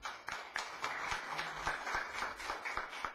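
Scattered, sparse clapping from a small audience at a conference on arbitrary dismissal, faint and uneven, with irregular individual claps rather than a full ovation.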